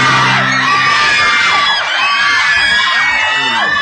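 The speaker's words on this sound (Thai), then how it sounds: "บีมนี่ไปไหนมาไหนมีแฟนคลับกรี๊ดอย่างนี้ตลอดเวลาไหมครับ" Crowd of fans screaming and whooping continuously, loud and close, high-pitched shrieks overlapping throughout with no pause.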